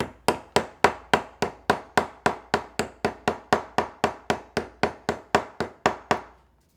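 A small wooden hammer drives a glued dowel into a wooden floating shelf, about twenty-two quick, steady, crisp taps in a row, close and loud, then stopping.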